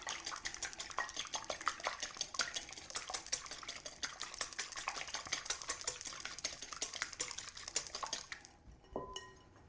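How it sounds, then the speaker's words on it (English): Eggs are whisked in a bowl with quick, rhythmic clinking and tapping of the whisk against the bowl, close and continuous for about eight seconds, then stopping, followed by a couple of faint knocks. "Whisk the eggs first."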